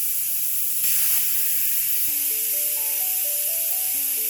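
A pressure cooker with egg biryani rice on high flame gives a continuous loud steam hiss, steady and unbroken, with faint sustained tones running beneath it.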